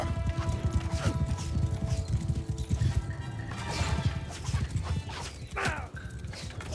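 Horses in the game Mount & Blade 2 Bannerlord, with hooves clip-clopping and thudding amid battle clatter, plus an occasional neigh over a busy, rainy mix.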